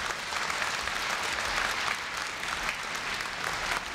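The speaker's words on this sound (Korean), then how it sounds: "염재호 총장님을 뜨거운 박수로 맞이해 주시기 바랍니다." A large crowd at the Korea University 2015 freshman entrance ceremony claps warmly to welcome the university president, a thick, continuous burst of applause filling the hall without letup.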